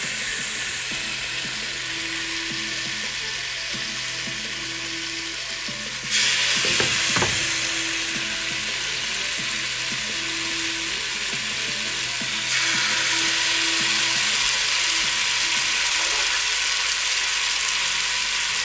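Lamb pieces, wiped of marinade, sear in a frying pan over fairly high heat, giving a steady broadband sizzle that jumps louder around the middle as more pieces go in, with a low mechanical hum and faint tonal ticking underneath.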